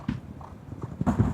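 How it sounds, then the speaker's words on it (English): Racehorse hooves clip-clop on the ground during jump racing practice, with several distinct footfalls at a steady walking rhythm, close and fairly loud with no speech over them. "Horse at the back there with the white faces, of course, called Meatloaf"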